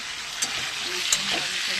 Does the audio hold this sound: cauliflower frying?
yes